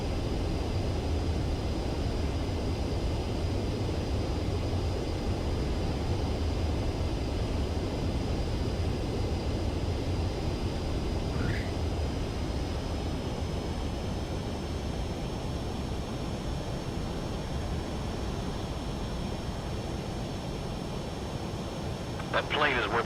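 Steady, loud jet engine roar of a fighter aircraft in the video game Ace Combat 7, holding as a constant broadband rush for the whole stretch, with a faint rising whine midway.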